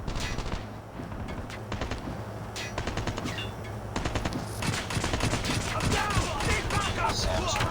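Gunfire in the mobile game Call of Duty Mobile: rapid bursts of automatic shots crack through, growing denser and more continuous toward the end, with game ambience underneath.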